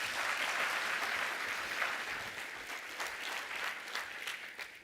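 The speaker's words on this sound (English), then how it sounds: "give them a round of applause" Sustained audience applause fills an opening conference session, a dense wash of many hands clapping at steady volume that gradually thins toward the end.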